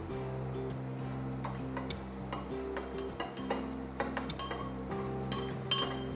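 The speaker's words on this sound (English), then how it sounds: "give it a really good stir around" A spoon stirs ingredients in a jug for a tomato and green lentil ragu, making repeated light clinks and taps against the sides over a steady background hum, with no talk.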